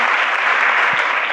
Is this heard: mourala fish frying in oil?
no